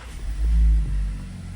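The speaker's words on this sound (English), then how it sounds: "And now we can start the vehicle as normal." Volkswagen Taos engine started with the stop-start button: a short low rumble swells as the engine catches and briefly revs, then settles into a steady idle hum, close and alone.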